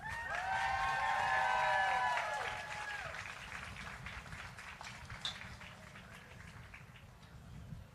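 A round of audience applause greets a national anthem singer at a watch party for the 2026 FIFA World Cup host city selection. Tonal sounds open it, then dense clapping and crowd noise follow, loud at first and slowly thinning.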